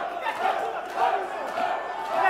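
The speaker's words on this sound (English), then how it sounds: "Here we go, the chant's going up." A boxing crowd at a heavyweight title fight chants in a rhythmic, rising and falling roar, loud and continuous across the short clip.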